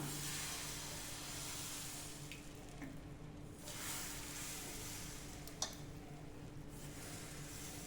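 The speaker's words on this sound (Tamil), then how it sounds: "இன்னொரு தோசை ஊற்றிக்கலாம்" Oats dosa batter sizzles on a hot pan with a steady, close frying hiss throughout, one faint click near the end.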